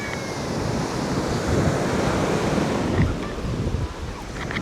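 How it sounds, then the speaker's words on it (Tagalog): Strong ocean waves on Puka Beach in Boracay rumble and wash in a continuous roar, swelling to a louder surge midway, mixed with gusty wind noise across the microphone and no talk. "Pakalakas din na alon."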